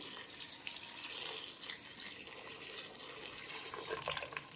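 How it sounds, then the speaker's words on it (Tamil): Water is poured into a pot of rice and lentils for sambar rice, a continuous close splashing gush that runs steadily without a pause. "நாலு டம்ளர் ஊற்றிட்டேன்"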